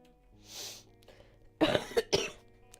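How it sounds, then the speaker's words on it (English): A person coughs a few times in a close, harsh burst of two or three coughs, after a sniffle-like breathy sound, with a quiet background and no talk. "And coughs"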